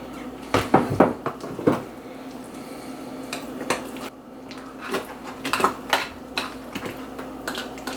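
Clinking and scraping of a utensil against an Instant Pot as macaroni lasagna ingredients and spices are stirred, irregular bursts of clatter close by with no talking.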